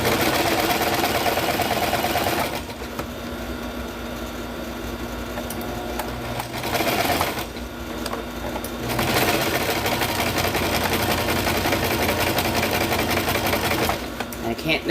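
A sewing machine runs in bursts stitching with contrast-coloured thread, its rapid mechanical chatter starting and stopping several times, with short pauses between runs while someone talks.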